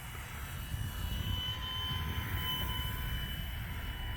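E-flite T-28 1.2 m electric RC model airplane flying at about half throttle with full flaps on a wet day, a steady whining motor and propeller drone with a faint high tone, moderately distant and unbroken, no talking.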